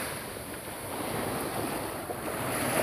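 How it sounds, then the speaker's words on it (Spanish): Strong surf pounds Salguero beach near Santa Marta on the Colombian Caribbean, a steady, loud roar of breaking waves mixed with wind buffeting the microphone, with no voices. "Esta playa ya el oleaje es mucho más fuerte"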